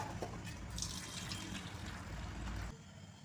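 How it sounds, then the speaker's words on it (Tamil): Toor dal is rinsed in water and drained into a vessel in a home kitchen, making a steady soft splashing and pouring wash of water that stops abruptly near the end. "பருப்பை நல்லா ஒரு 3 கழுவு கழுவிட்டு தண்ணியை நம்ம ஒரு பாத்திரத்தில் வடிகட்டிக்கிடுவோம்."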